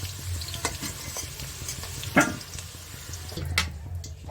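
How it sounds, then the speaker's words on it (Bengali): Potato pieces fry in hot oil with a continuous soft sizzle, broken by a few sharp clinks and scrapes of stirring close by. "তেল গরম করতে দিয়েছি, ওতে আমি আলুগুলো ভেজে নেব।"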